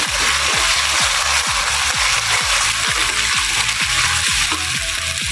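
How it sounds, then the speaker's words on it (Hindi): Onions, ginger-garlic paste and green chilies fry loudly in a pan, a dense steady sizzle broken by regular scraping strokes as a spoon stirs them, close and continuous throughout. "इसमें अदरक लहसुन का पेस्ट शामिल करेंगे, साथ ही सब्ज़ मिर्चों का भी कर देंगे। इसको अच्छे से हिला लेंगे।"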